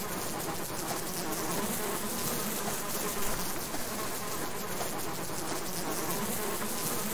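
Bees swarm in the video game Subsistence in a dense, continuous buzzing drone that stays loud and steady throughout, with no speech.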